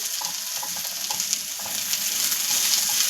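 Chopped onions fry in a heavy iron pan for Kolhapuri tambda rassa, a red chicken curry, with a steady, bright sizzle and faint crackles that swell slightly toward the end, close and without talk.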